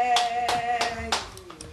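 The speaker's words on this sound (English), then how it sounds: "Clap your hands." A small child clapping hands at home in the early 1990s, five or six separate claps in an uneven rhythm, close by, with a steady electronic tone humming underneath.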